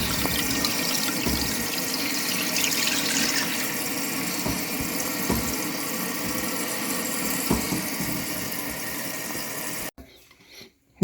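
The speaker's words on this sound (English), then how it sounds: "Let's turn the water on, see what happens." Water rushes steadily into a toilet as the supply is turned back on after a repair, a continuous hiss and gurgle with a few faint knocks that cuts off abruptly near the end.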